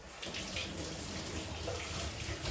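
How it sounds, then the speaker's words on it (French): Hands being rinsed under a running kitchen tap, with a continuous soft splashing stream of water, close and fairly quiet. "puis je me rince un petit coup les mains"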